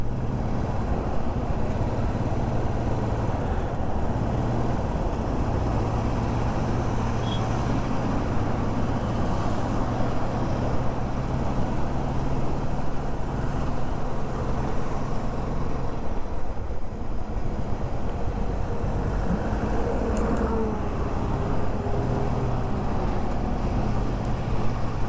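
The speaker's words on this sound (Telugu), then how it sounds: "ఫుల్ లోడ్గా ఉన్నట్టుంది లారీ" Heavy loaded lorries on a forest ghat road between hills, heard as a continuous deep engine and road rumble, steady and unbroken throughout.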